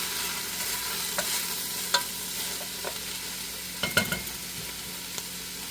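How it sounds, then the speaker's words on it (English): Kielbasa sausage and onions sautéing in a pan give a steady sizzle, broken by a few sharp clicks and scrapes of stirring, with no voices. "I put the Kielbasa sausage in, and I saute it with the onions."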